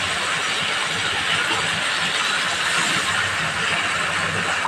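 Mustard greens hit hot spiced oil in a pan, giving a steady, dense sizzle and hiss that holds at an even level throughout, with no voices.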